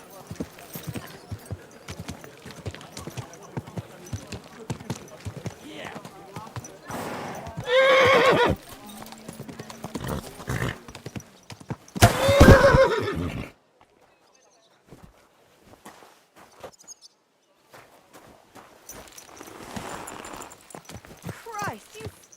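In the video game Kingdom Come: Deliverance II, a horse whinnies loudly twice amid steady clip-clopping hooves, with someone talking over much of it before a quieter stretch.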